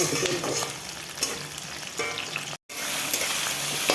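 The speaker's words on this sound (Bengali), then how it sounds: "কড়াতে তেল দিয়ে পেঁয়াজ দারচিনি এলাচ লবঙ্গ সব দিয়ে ভালো করে ভেজে একটু টমেটো দিয়ে দিলাম" Onion, tomato, cinnamon, cardamom and cloves frying in oil in a kadai, a dense steady sizzle close by with occasional stirring scrapes and one brief gap, no talking.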